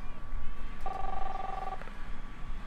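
A telephone rings in a video game, a single electronic ring tone lasting about a second under ongoing game sounds and background noise.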